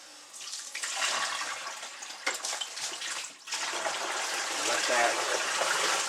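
Water pours and gushes out of a hide-tanning vat as it is dumped, a steady splashing rush lasting several seconds with a brief dip midway, close and fairly loud.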